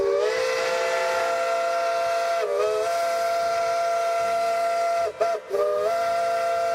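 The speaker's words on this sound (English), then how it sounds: "There's all these whistles." Steam train whistles in the railroad simulation game Railroader, a long sustained chord-like whistle blowing loudly with brief dips and breaks, overlapping tones holding steady with no talk.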